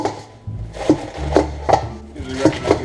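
A knife chopping lettuce for a Caesar salad, with a handful of crisp, irregular cuts close by and no talking.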